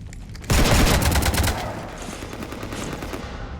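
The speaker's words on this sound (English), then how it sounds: "You want to stop shooting up my ship?" Sustained burst of rapid gunfire in the video game Mass Effect 3 as a ship is shot up, a loud fusillade erupting suddenly and lasting about a second before easing into a continuing noisy roar.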